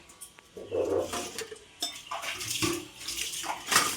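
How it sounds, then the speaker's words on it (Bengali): Dishes being washed under running water in a home kitchen, a steady splashing stream with scattered clinks and bumps of utensils, fairly close, with no talk. "এই দেখো বোন এখানে বাসন মাজছে"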